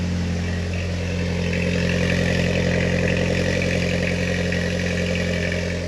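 A Mk2 Jetta with a $40 homemade exhaust idles steadily, a low, even engine drone with a strong rumble and a faint rise in the middle, with no talking over it.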